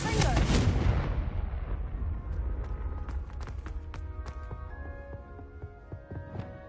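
A Confringo fire spell blast from Hogwarts Legacy hits with a loud, deep boom, then rolls into a long rumbling decay scattered with crackles and small sharp impacts.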